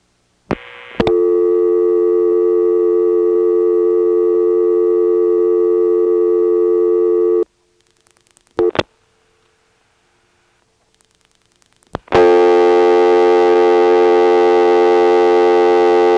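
A 1977 ESS telephone exchange in Washington, North Carolina answers a dialed 80 with a loud steady tone, which stops after a few clicks, then starts again after a brief pause.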